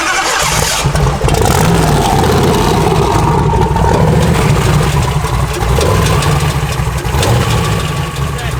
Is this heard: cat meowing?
no